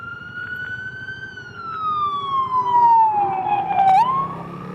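An emergency vehicle siren in Eureka Springs, Arkansas, wails steadily, its pitch sliding slowly downward before a sharp yelp, loud and fairly close over a rumbling traffic background.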